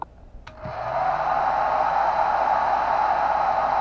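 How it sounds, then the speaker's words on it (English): A hair dryer is switched on and runs on low speed while hooked to a power meter on a generator, a click followed by a rising steady whoosh of airflow that settles into a constant, close hum. "So as I activate this dryer"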